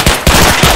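Rapid bursts of video game gunfire fire in quick succession, loud and close, a few sharp cracks packed into under a second.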